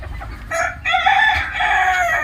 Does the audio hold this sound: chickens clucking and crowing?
yes